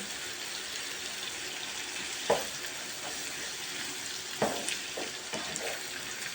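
Small unpeeled tomatoes frying in a pan with onions, peppers and chicken breast, a low steady sizzle with a few sharp stirring clicks and scrapes over it.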